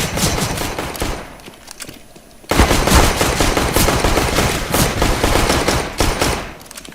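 Loud, rapid automatic gunfire from Counter-Strike: Global Offensive rattles off in dense, continuous bursts, softer during the first couple of seconds and then sustained at full volume.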